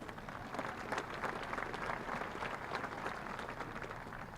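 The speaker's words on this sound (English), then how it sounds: "Give yourselves a round of applause." Applause from a large high school graduation audience makes a steady, dense patter of many hands, moderately distant and fairly quiet, with no speech heard over it.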